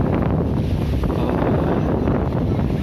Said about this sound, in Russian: Но ветер сильный, вы, наверное, слышите, да?